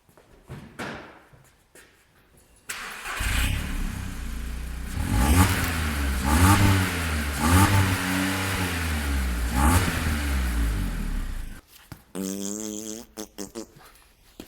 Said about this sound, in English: let's get behind the Polo and see what it sounds like first with the standard exhaust